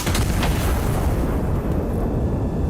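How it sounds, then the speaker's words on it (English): A heavy turret cannon fires in the turret simulator game Iron Nest, producing a loud, dense roar of explosive booms that stays full and rumbling throughout. "Arming right cannon."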